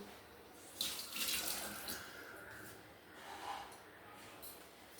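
A kitchen tap runs while hands are washed after mixing a spicy prawn, potato and brinjal curry, giving soft, fairly faint splashing that swells and fades in uneven bursts.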